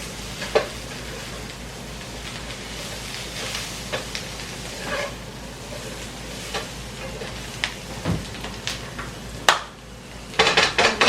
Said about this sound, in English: Stir in the salt, and then I think we're done.